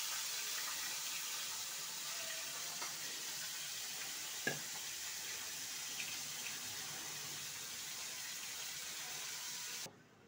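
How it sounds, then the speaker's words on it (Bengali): Tilapia fish coated in salt and turmeric frying in hot oil, a steady, faint sizzling hiss throughout with a single small clink midway and no talking. "তেলাপিয়া মাছ এই যে ভেজে নিচ্ছি"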